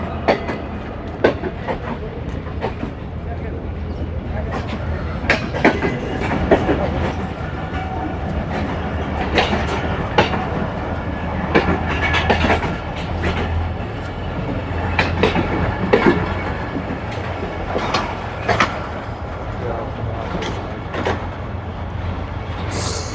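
The Tezgam 8 Down passenger train runs along, a steady rolling rumble with rhythmic clickety-clack from the wheels over the rail joints. Sharp rattles recur throughout, heard up close from on board.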